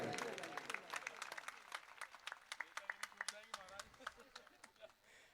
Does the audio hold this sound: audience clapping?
yes